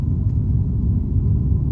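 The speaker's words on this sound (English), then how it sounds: "A lot of traffic going around." Street traffic in Durham, UK, a steady low rumble of cars passing nearby, continuous and fairly loud without a break.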